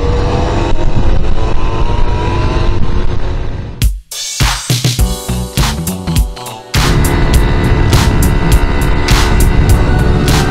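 A moped revving hard and accelerating at a Red Bull All The Way 2019 moped event, loud and close, with a sharp burst of rapid stuttering engine pulses in the middle between long sustained roars.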